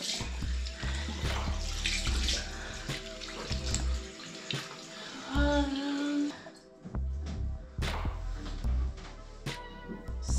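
Water runs steadily from a tap, a continuous rushing splash that briefly shifts and pauses before pouring again, close by in a bathroom.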